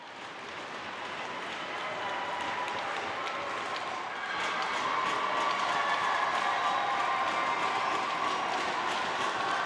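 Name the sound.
crowd cheering at a junior hockey game in Listowel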